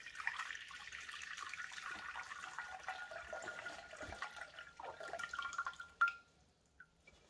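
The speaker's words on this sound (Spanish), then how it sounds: "ahora va a caer bastante agua" Water draining and trickling out of a faulty Balay dishwasher into small containers, a faint steady splashing that stops abruptly, leaving a few soft drips and near silence.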